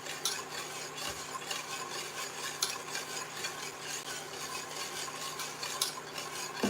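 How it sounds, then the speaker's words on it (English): A whisk scrapes continuously around a pot of carbonara sauce, a steady close rasping and stirring with light metallic clinks and no talking. "you're just gonna whisk this sauce all the way out"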